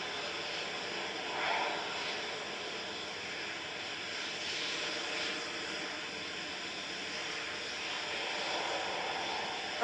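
Airplane engines at Manchester Airport roar in a steady, sustained drone at moderate distance, with no talk over the sound.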